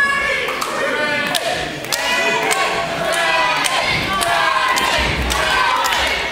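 A live wrestling crowd in Dagenham cheers during a tag team title match, a steady roar of voices with scattered thuds and slams from the ring underneath.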